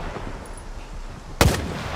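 A single sharp, loud gunshot from STALKER 2: Heart of Chornobyl, fired in a firefight against soldiers, cracks out once against a low, steady background hum.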